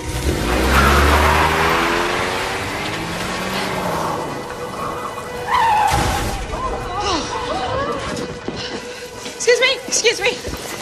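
A car's engine revs and pulls away in a parking lot, a loud rising roar near the start that fades into the distance while other motor sounds and a sharp clatter follow.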